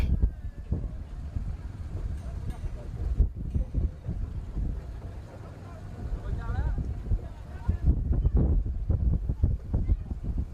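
Strong headwind buffeting the microphone outdoors at Mont Saint-Michel during an Olympic flame relay, loud gusty rumble with bursts of roar, and people speaking underneath.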